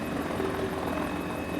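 A Mini 500 helicopter engine in Microsoft Flight Simulator, a steady close droning whine with rotor buzz holding constant, loud and unbroken with no talk over it.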